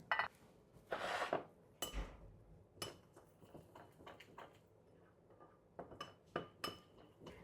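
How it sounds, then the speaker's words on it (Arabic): Potatoes, carrots and onions being tossed with oil and marinade in a dish: a run of clinks and scraping knocks of utensil against cookware, irregular and close, with quiet pauses between. "هلا رح احط نتفة زيت واخلطهم"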